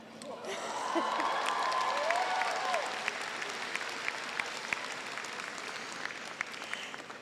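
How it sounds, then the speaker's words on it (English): A convocation audience in Moose Jaw breaks into sustained applause, swelling quickly and then holding as a dense, steady clatter of clapping, with a voice briefly audible early on. "she deserves a special round of applause today"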